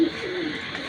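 A pair of racing pigeons coos softly and continuously at close range in a brief moment with no voices.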